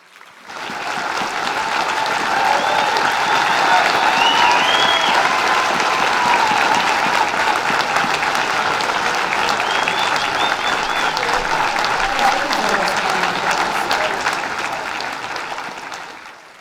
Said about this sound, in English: If we could give everyone who's received an award tonight another round of applause.